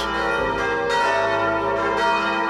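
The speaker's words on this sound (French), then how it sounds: "C'est une petite cloche qui annonçait la fin de la domination espagnole sur la principauté." A small old bell in the belfry of Notre-Dame Immaculée cathedral in Monaco rings with rich, sustained metallic overtones. Several strikes come in an uneven pattern, and the loud ringing continues throughout with no talk.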